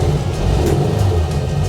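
A rusty, roughly sixty-year-old Volkswagen Type 3 Notchback sedan pulls away on a hill start with a steady, close, low engine rumble that holds evenly for a couple of seconds, with no talking.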